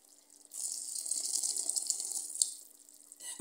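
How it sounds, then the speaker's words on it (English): Water runs from a tap into a pot of boiling goat stew for cabbage soup, a steady gushing pour lasting about three seconds, close and fairly loud, then stopping. "I'm going to add some water for the soup"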